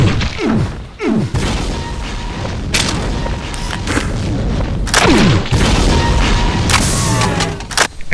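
A Demon Tech BFG weapon in a Doom mod fires repeatedly, each loud booming shot sweeping downward and crashing into sustained roaring explosions that keep the scene dense and chaotic.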